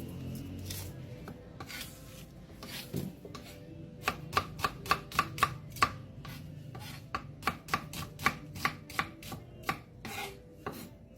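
An onion being chopped for sinigang, with a knife striking the board in a close series of sharp, evenly spaced chops that speed into a quick rhythm, with quieter scraping between strokes.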